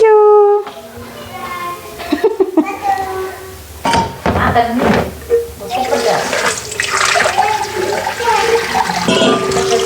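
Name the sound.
washing fern vegetables in water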